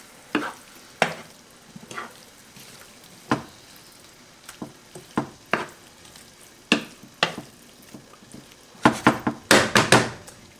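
A spoon stirs food in a simmering pot during Tunisian home cooking, giving repeated close scrapes and knocks over a steady low sizzle, the strokes bunching together near the end.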